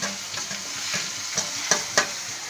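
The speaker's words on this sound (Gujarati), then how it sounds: "વઘાર કર્યો છે મસાલો નાખી દીધો છે" Spice tempering with asafoetida and turmeric sizzles in a pan for pav bhaji, a steady hiss broken by a few sharp spatula taps and stirring scrapes, close and moderately loud.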